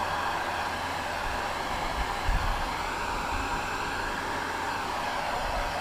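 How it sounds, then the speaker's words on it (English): A hot air gun blows steadily to warm a car door trim panel for reupholstering, a continuous broadband rushing hiss that stays even throughout with no talking. "you can use a hot air gun"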